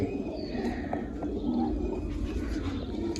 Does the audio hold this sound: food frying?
no